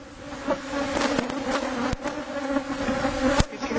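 Honeybees swarming around an opened hive box fill the air with a dense, continuous buzzing, individual bees droning close past the microphone over a steady humming mass.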